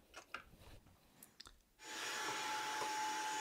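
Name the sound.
vacuum cleaner cleaning out an electrical box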